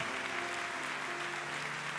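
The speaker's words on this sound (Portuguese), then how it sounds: "Se você tem, pode aplaudir ao Senhor." Church congregation applauding during a worship service, a steady sustained patter of clapping with a low organ or keyboard drone beneath it.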